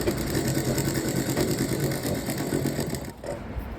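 A sewing machine stitches a prince cut blouse, running in a steady, continuous rapid whirr close by for the whole stretch, dipping briefly near the end.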